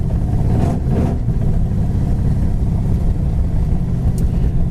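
A 1968 Dodge Coronet 500 with a big block 440 engine driving, a loud, steady low engine rumble that holds throughout with slight surges.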